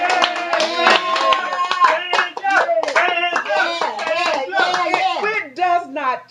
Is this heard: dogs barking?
no